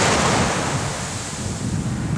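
Sea waves at Keykubat beach, a continuous loud wash of surf mixed with wind noise on the microphone, no voices.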